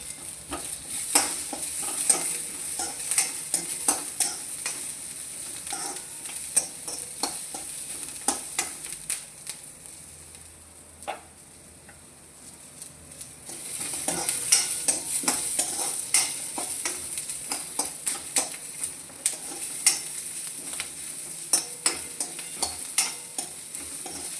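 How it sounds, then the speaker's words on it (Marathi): Ginger and garlic frying in a pan, a continuous close sizzle with repeated scraping and stirring clicks of a spatula, briefly quieter midway before resuming strongly. "लगेच मी थोडं अद्रक आणि हा लसूण पण याच्यात टाकून घेणार आहे. थोडंसं भाजून घेणार, जास्त नाही भाजणार."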